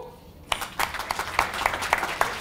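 An audience at a startup show breaks into sudden applause after near silence, with dense, sustained clapping that stays lively with uneven peaks throughout.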